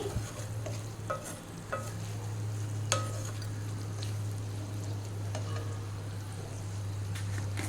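Coriander and cumin powder frying for a mutton curry, a steady sizzle with a low hum beneath and intermittent scraping stirs of a spoon in the pan.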